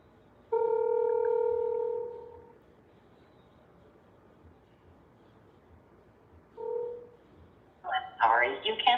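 An outgoing phone call begins with a loud steady ringback tone for about two seconds, then a brief repeat of the tone, followed by a voice speaking over the line at the end.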